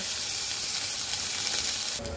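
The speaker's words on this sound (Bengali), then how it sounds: "এই তিনটাকে খুব সুন্দর করে আমি আগে কষাবো" Garlic, ginger and onion paste fries in hot oil with a loud, steady, close-up sizzle that holds unbroken for about two seconds, then changes briefly near the end as the paste is stirred.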